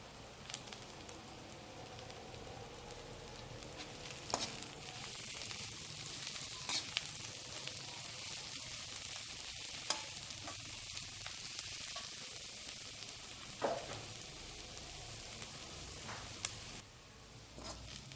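Cabbage, capsicum and other vegetables braise for chicken Hakka noodles, a quiet continuous sizzle in the pan with occasional light scraping clicks from stirring.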